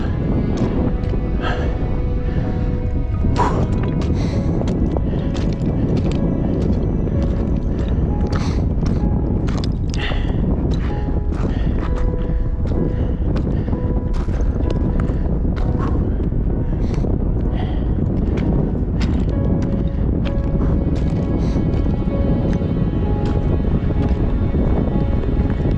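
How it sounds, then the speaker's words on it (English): Strong wind gusts buffet the microphone on a high mountain trail at Leavitt Peak in the High Sierra, a loud, continuous roar with rumbling surges and brief rustles, with no one talking. "Windy, baby. It's windy."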